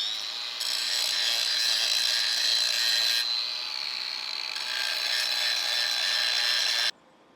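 An electric welder lays a bead on a piece of scrap metal, giving a steady, close, crackling hiss that holds for several seconds before cutting off abruptly near the end.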